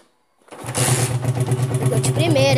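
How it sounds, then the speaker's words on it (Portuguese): After a moment of silence an engine catches and starts, settling into a loud, steady, throbbing motorcycle idle with slight revving. "Galera, bora lá acelerar a moto."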